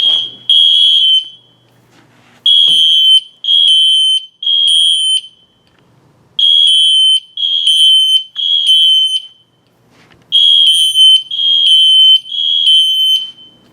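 Loud electronic Wheelock and System Sensor fire alarm horns blare during a system test in repeated bursts of three beeps, separated by short silent gaps.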